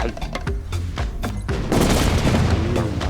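Bombs go off in the video game Bomb Bots Arena as a series of sharp booming blasts in quick succession, loud and close, building into a dense burst of explosions toward the end.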